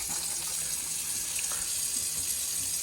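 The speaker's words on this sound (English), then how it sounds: "So you turn the water on." A tap runs steadily while hands are washed, a constant bright hiss of flowing water close by with no talk.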